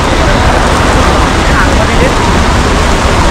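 Rain pouring down at the crowded Pandharpur pilgrimage, a dense, loud, continuous hiss of falling water that fills the whole stretch without pause.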